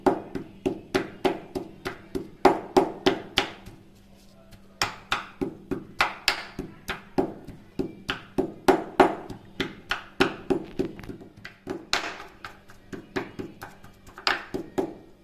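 Garlic pounded in a mortar while preparing Gujarati spiced tadka yogurt: steady, close, rhythmic thuds and knocks repeat in quick runs with brief pauses between them.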